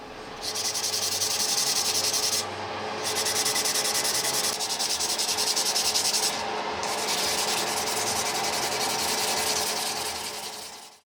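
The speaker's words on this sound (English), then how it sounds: "When dry, sand off the excess, leaving a smooth, even surface ready for a final application of DuraCoat." Steady, close rubbing of sandpaper across a firearm surface to remove excess dried DuraFil surface filler, a continuous hiss broken by two brief pauses, with no speech.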